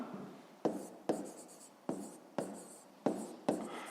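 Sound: writing with a pen in a notebook

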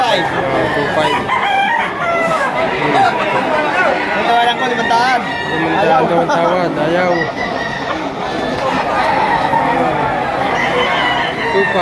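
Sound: rooster crowing at a market

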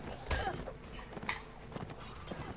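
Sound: horse hooves in the video game The Last Days of the Third Age

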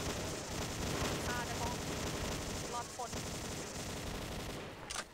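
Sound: machine gun firing in a video game

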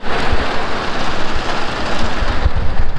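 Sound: rain falling

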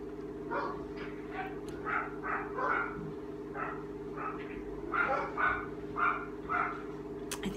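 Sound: dog barking

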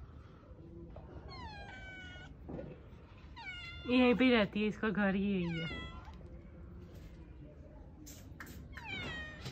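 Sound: cat meowing in a garden

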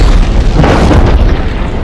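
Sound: volcano explosions in Jurassic World: Fallen Kingdom film

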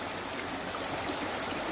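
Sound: small mountain creek flowing near Mount Si

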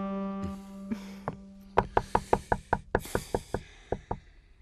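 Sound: knocking on a door

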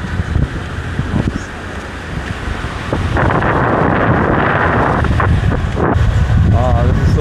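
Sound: wind

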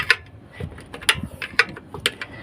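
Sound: tightening a part on an engine

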